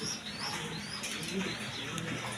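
Art Angel pigeons murmur in soft, low coos against a steady background hum, with a faint high chirp now and then and no voices.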